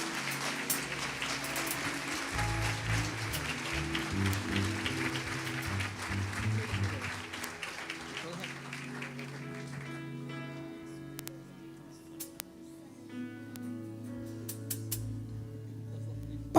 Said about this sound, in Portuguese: Vamos aplaudir esse casal?